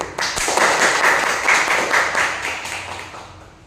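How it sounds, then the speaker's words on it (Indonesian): Classroom applause for a student group after their presentation, a steady burst of many hands clapping together for a few seconds before fading slightly at the end. "Sekarang kita beri aplaus untuk kelompok 1"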